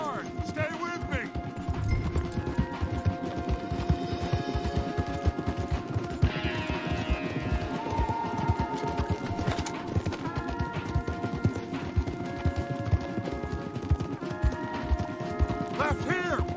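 Galloping horses in Red Dead Redemption 2 pound out a fast, continuous hoofbeat rhythm, with other game sounds layered over the drumming hooves.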